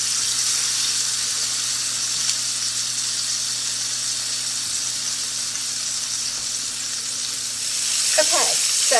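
Chicken pieces frying in a pan, giving a steady close hiss and sizzle that runs throughout, with a brief clink of stirring or turning near the end.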